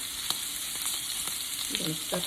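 Potatoes fry and brown in a pan, producing a steady, close sizzle with occasional pops and a brief clink of a utensil near the end.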